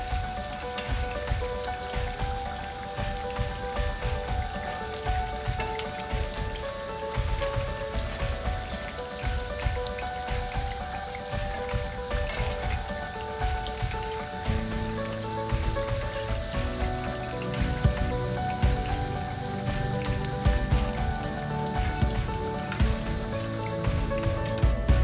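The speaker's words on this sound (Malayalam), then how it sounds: "ഇനി അടുത്ത ട്രിപ്പ് കൂടെ വറുത്തിട്ട് കാണിക്കാം" Bread pakoda pieces deep-frying in hot oil, a steady close crackling sizzle with dense bubbling that runs the whole time, no voices.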